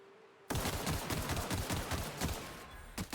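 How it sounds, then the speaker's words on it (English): An electric pistol in The Outer Worlds fires a rapid, steady stream of dense crackling shots that run almost continuously for a few seconds. The firing stops briefly near the end, and a couple more shots follow. "this electric pistol's doing fucking wonders"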